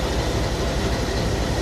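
A long goods train with many coupled wagons starts slowly from the Vasco da Gama station platform, giving a dense, continuous rumble at close range.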